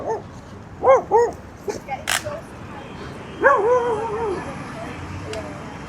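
A dog at a downtown dog park in Hollywood, Florida gives a few sharp barks and yips, followed by a longer howling whine, moderately close over outdoor background noise.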